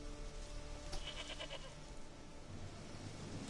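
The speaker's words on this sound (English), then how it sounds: "The goat." A goat bleats once in The Witcher 3, a short wavering cry near the start, over a steady low game ambience hum.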